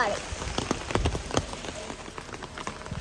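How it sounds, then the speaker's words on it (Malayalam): Rain patters on a surface at moderate volume at a resort in Wayanad, Kerala, with scattered drops and faint background voices. "പക്ഷെ നല്ല മഴ അല്ലേ"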